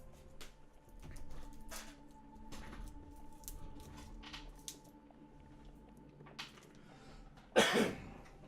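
Several quiet coughs and throat clearings spread over a few seconds, followed by a louder, harsher burst near the end.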